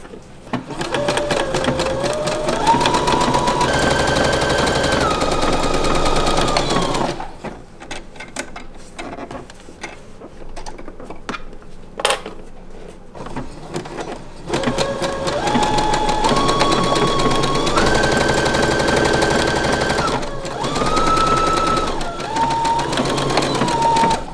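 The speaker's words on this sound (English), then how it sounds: "I have switched over to a zigzag stitch because this is a knit fabric" A sewing machine runs a zigzag stitch across several layers of knit fabric in steady, loud mechanical runs, pausing in the middle for a quieter stretch with a brief click, then resuming its rapid whirring hum.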